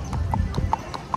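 Horses' hooves clip-clop steadily on the ground during a cowboy trail ride in Sonora, Mexico, with evenly spaced strikes close by under a low rumble and some background voices.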